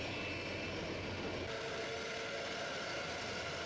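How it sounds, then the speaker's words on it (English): The four engines of a Boeing 747 freighter spool up to idle on the ground, a dense, steady roar with a broad hiss that continues without a break. "the aircraft's 4 engines are started one after another, each producing a deep roar as they spool up to idle power"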